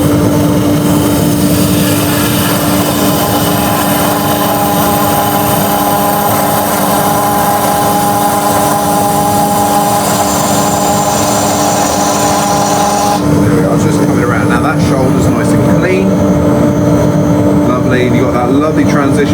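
A wood lathe spins while a turning tool cuts a wooden vase, giving a steady loud whirring hum with a constant tonal whine and shifting scraping texture, the cut changing character partway through.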